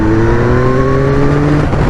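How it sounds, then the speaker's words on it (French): A Yamaha MT-09 motorcycle with the Y-AMT automated transmission revs loudly and steadily up close, its engine drone holding a strong, rising harmonic tone without any talking. "Et si vous accélérez, bien évidemment la moto ne va pas passer les rapports de suite quoi."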